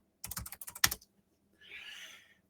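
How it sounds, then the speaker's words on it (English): A quick burst of typing on a computer keyboard, about ten rapid close clicks, followed by a short soft hiss after a pause. "I'm just going to type in my text here."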